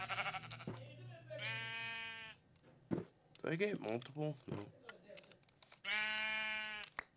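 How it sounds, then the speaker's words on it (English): Sheep in the Minecraft Crazy Craft modpack bleat in several drawn-out, loud calls, one early and one near the end, while a player talks between them and keyboard typing clicks underneath. "Oh, those are sheep."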